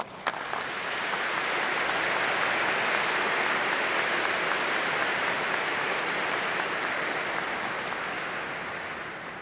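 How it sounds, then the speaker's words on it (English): At the Columbus School of Law commencement, a large crowd gives a sustained round of applause, a dense, even wash of clapping that swells in and then slowly tapers off near the end with no voices over it. "join with me in giving our graduates, networks of family and friends, wherever they are today, a round of applause."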